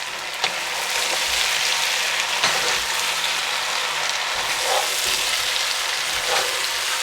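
Browned meat and onions sizzling in a pan for a meat and vegetable tagine, a steady close crackling hiss with occasional stirring scrapes and no talking.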